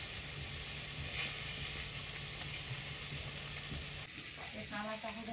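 Fish fries in hot oil with a steady, loud sizzle and hiss that runs throughout, and a few clinks and stirring sounds come near the end.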